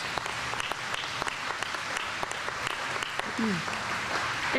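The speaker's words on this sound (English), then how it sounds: "Go ahead and clap for that." An audience claps at a school ribbon cutting, a scattered, moderate round of applause from a crowd, with a brief voice rising near the end.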